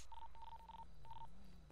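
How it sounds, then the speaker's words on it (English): A button in the GTA RP video game is pressed repeatedly, each press giving a short, faint electronic beep in a quick, uneven run of four tones over a low background hum. "Who just keeps pushing a button?"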